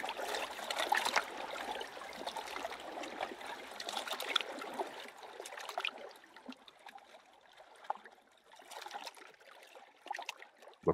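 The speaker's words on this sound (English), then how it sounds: "the sound of water, which is probably the most nurturing sound that I think I've ever heard" Gentle water flowing with small waves brushing against a shore, a soft, steady trickling wash with light splashes that continues throughout, fairly quiet and with no voices.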